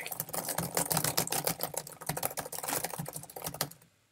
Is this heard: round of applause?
no